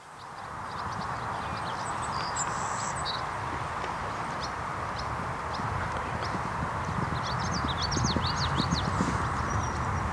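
A horse canters over grass during a jumper lesson, its hooves thudding in a steady rolling rhythm at a moderate distance, with faint birdsong above and no talk.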